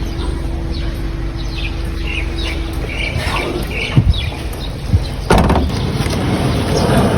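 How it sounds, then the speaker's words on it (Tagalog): Birds at a morning market give repeated short chirps and squawks, moderately close, against steady background noise with occasional knocks and bangs. "Dito ibon natin."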